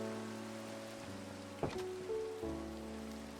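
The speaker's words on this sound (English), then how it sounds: "'Tis night and it is raining." Rain falling at night in a video game world, a steady soft patter of drops running throughout alongside a low ambient tone, with a brief clunk partway through.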